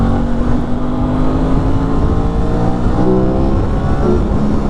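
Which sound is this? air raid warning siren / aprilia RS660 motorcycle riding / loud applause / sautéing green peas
aprilia RS660 motorcycle riding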